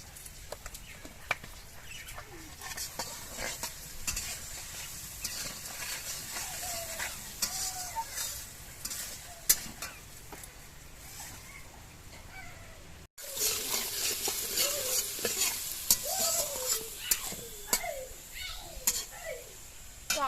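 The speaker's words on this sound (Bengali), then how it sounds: "আলুটা লাল লাল করে ভাজা হয়ে গেছে।" Potatoes frying and being stirred in a pan for lau chingri, a steady close sizzle with scraping spatula strokes throughout, growing louder in the second half. No one speaks.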